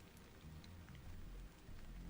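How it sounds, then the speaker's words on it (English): Steady rain falls in Stellar Blade, a soft, continuous hiss of drops with a low rumbling undertone, faint and even throughout without voices. "This must be Earth's rain."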